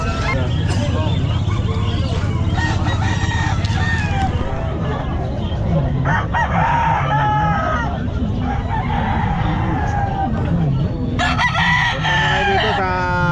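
Chickens and roosters crow and cluck loudly at a poultry and pet market in Calumpit, with repeated overlapping cock-a-doodle-doo calls and goose-like honks set against busy market noise and people talking.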